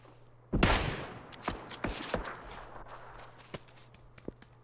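Gunfire in a PUBG esports match, a sharp close shot followed by a scatter of quieter, more distant shots at an irregular rhythm, with a faint steady hum underneath.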